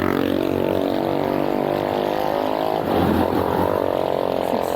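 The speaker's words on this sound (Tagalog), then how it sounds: "grabe yung traffic" Heavy road traffic heard from a bicycle on the ride to Silang, Cavite: a loud, continuous engine drone with a deep hum throughout. Midway through, a nearby vehicle passes and swells briefly.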